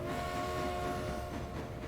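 Steam locomotive whistle in the railway simulation game Transport Fever 2, a sustained tonal blast held for nearly two seconds over the rumble and clatter of the moving train, moderately loud and alone.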